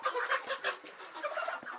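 Several hens and young chickens in a crowded coop cluck in quick, close bursts, a busy rhythmic chatter heard without talk.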